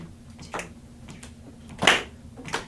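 Children in a music class click fingers or clap on their assigned beat numbers, producing a few sparse, sharp snaps and claps at irregular intervals in a quiet room, one louder than the rest.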